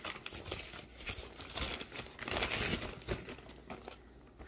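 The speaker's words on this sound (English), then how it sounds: "Here I have a padded recycle Amazon envelope." Padded recycled Amazon envelope being opened, giving steady close crinkling and crumpling of paper padding with soft tearing rustles throughout, fairly quiet and without speech.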